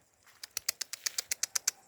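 Sarımacar pigeon taking off, its wings clapping in a quick, even series of about a dozen sharp beats that grow slightly louder, close by in a quiet setting.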